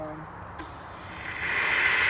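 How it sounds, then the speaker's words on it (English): A car-detailing steam cleaner purging water from its line, giving a steady hiss that starts after a brief click and builds into a louder, continuous spray, with no voices. "I'm basically just purging the water out of the line before I start steaming"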